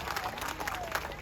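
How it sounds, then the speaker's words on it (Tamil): A rally audience in Jaffna claps for the president, giving a short burst of steady, dense crowd applause. "எங்களுடைய ஜனாதிபதிக்கு உங்களுடைய பொன்னான கரகோஷங்களை செலுத்தி அவருக்கு"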